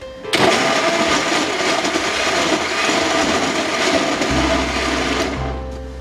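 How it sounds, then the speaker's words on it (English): A loud blender whirs steadily for several seconds blending tomatoes, its motor note shifting slightly before winding down near the end. "I've dropped the tomatoes in the blender and I'm going to start blending that first"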